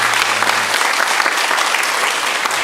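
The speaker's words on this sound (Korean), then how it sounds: "우리 한번 1층에 계신 우리 박수로 우리 한번 안녕하도록 하겠습니다." A church congregation on the ground floor claps together to welcome a first-time visitor during a Sunday morning service, a full, even burst of applause with a brief low hum at the very start.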